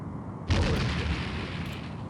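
Star Trek: The Next Generation – A Final Unity video game torpedo launch: a sudden loud burst with a low thump that rolls into a sustained, washing roar lasting a couple of seconds, heard alone without voices.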